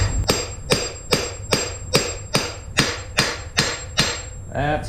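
Hammer blows on a bearing tool seating a steering bearing race in a Honda VF500F motorcycle, nine evenly spaced ringing metallic strikes about half a second apart, close and loud over a low hum.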